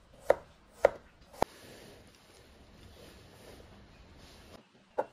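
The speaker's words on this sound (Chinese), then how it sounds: "黄瓜清洗干净，斜着切成段，再改刀切成薄的菱形片。" A knife cuts a cucumber into thin diamond-shaped slices on a board, with three crisp, close chops in quick succession, a quiet pause, then one final chop.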